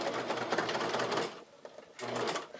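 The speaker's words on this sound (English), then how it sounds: "I like to use my my regular sewing machine first, almost like to baste it in place" A regular sewing machine basting a lace seam on a thong runs in a fast, steady whir of stitching, briefly pausing before starting again, close and fairly quiet.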